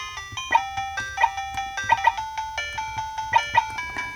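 Electronic beeping melody from the Nightwings game on a cheap 30-in-1 handheld games console, a bright looping square-wave tune of repeated tones with punchy accented blips, steady and fairly loud with no talking.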